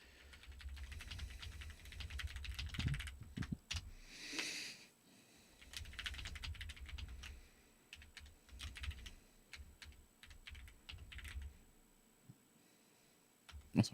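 Fast clicking keystrokes on a computer keyboard, quiet and close, coming in uneven bursts with short pauses and a louder tap at the very end.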